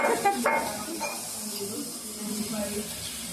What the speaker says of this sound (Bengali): মাছ রান্না হচ্ছে ভোগের ভোগ রান্না হচ্ছে